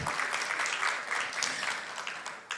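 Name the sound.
audience applause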